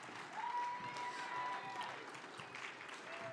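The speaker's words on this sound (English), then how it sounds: "Round of applause for Jocelyn and Sammy." Awards-ceremony audience clapping for two stage helpers at a bluegrass music event, a fairly quiet, steady stretch of applause from a hall crowd with some faint murmur mixed in.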